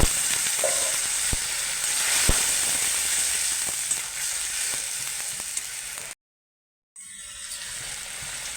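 A masala of Kashmiri chili powder with a splash of water fries in a pan, hissing and sizzling loudly and steadily with a few sharp pops, then cutting out for about a second before the sizzle resumes.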